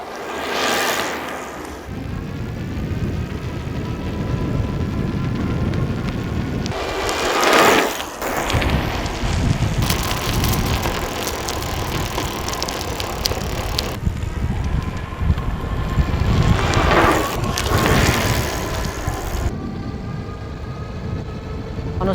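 Converted budget e-bike riding at speed on flat ground, a continuous rushing roar of wind and tyre noise with some louder gusty swells, close-up and steady throughout, no speech.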